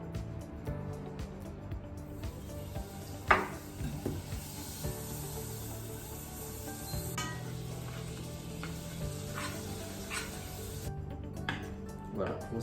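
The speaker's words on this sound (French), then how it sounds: "on va commencer par caraméliser notre kaki avec du sucre, du beurre" Butter and sliced persimmon with sugar sizzle steadily in a hot pan, a continuous close frying hiss with occasional stirring scrapes and a louder clack, while a voice talks intermittently over it.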